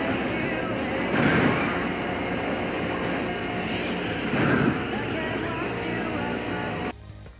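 A car driving on the road with a constant rolling roar of tyres and engine heard from inside. The noise swells briefly twice, then cuts off abruptly near the end.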